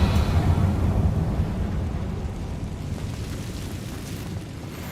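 A Confringo blasting spell explodes in a Harry Potter video game, a loud booming burst that rolls on as a long, dense rumble and slowly fades over several seconds.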